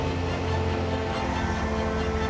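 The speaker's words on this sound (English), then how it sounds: "24 minutes after the Dreamliner was meant to leave, it's finally on its way." A Boeing 787 Dreamliner airliner departing Heathrow gives a steady, loud engine roar that fills the short stretch evenly, with no talk over it.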